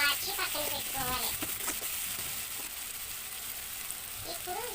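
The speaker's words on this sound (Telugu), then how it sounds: "ముక్కలు, కరివేపాకు కూడా వేసి వేయించాలి" Curry leaves and other tempering ingredients sizzle and crackle in hot oil in a pan for a rusty upma of beaten rice, a steady quiet frying hiss with faint voice-like tones in the background.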